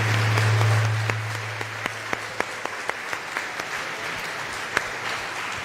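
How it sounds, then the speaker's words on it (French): A church congregation applauding during a service, a fading wash of clapping at first that thins into scattered individual claps. "Est-ce que nous pouvons encore acclamer notre Seigneur Jésus-Christ?"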